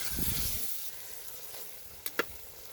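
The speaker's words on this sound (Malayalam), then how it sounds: "എന്നിട്ട് ഇതൊന്നിട്ട് നല്ലോണം ഇളക്കി മിക്സ് ചെയ്യുക കേട്ടോ" A pan of chicken curry with curry leaves and coriander leaves is stirred and mixed, giving a soft continuous sizzle and frying hiss with two brief scraping clicks of the spoon near the end, with no voices.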